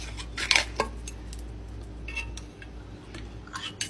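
A spoon clinks against a bowl while natural yogurt is added to a flaxseed face mask, a couple of sharp close metallic taps followed by softer scraping and faint light clinks.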